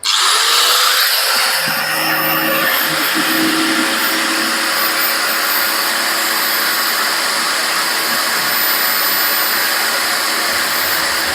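A Mal 950-watt angle grinder spins up and then runs steadily at free speed. It gives a loud, constant motor whine close by, with no talking.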